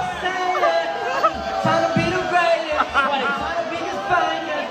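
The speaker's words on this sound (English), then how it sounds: "At Miami's Club Live, the audience began booing the Island Boys on stage." A crowd at Miami's Club Live booing the Island Boys on stage, a loud, sustained wash of voices and jeers in a club setting, with no clear gaps.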